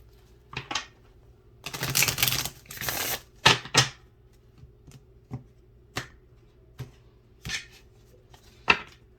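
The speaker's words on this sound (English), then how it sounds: "Not me trying to cut a big old chunk of cards here" Crisp snaps and riffling of a deck of playing cards being cut and handled, a short burst of shuffling flutter near two seconds followed by isolated sharp card clicks spaced out in an otherwise quiet room.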